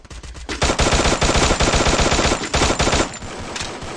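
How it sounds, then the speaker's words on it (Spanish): Rapid bursts of video game gunfire, dense and loud, pounding almost continuously for about three seconds before easing off into quieter rattling. "Me disparó."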